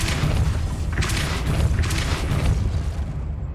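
The Depulso spell firing in Hogwarts Legacy on PS5, a loud, deep booming burst with a heavy low thump, followed by a second surge of rumbling force, fading toward the end.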